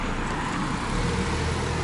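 A car drives along a narrow country road in Guernsey, heard from inside as a steady, close engine and road-noise rumble with no change in pace.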